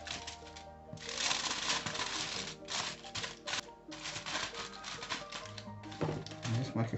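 Tin foil is crinkled and folded around apple wood chips for smoking meat, giving close, bursty crackling and rustling that comes in repeated handfuls with short pauses between them.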